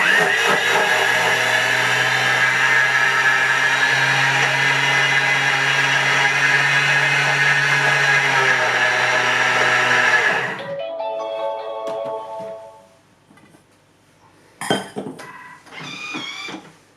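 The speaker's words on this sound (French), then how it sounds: "Que je vais mixer 10 secondes, vitesse 10." A Thermomix whirring at top speed through a chocolate truffle mixture, a loud steady high-pitched drone for about ten seconds that cuts off abruptly, followed by fainter clatter and a short metallic rattle.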